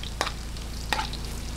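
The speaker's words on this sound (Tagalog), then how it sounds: "toasted garlic sa aking kawali kasi po nag-toasted po ako" Garlic toasting in a kawali (frying pan) for lomi: a steady close sizzle broken by two sharp spatula scrapes, with no talking.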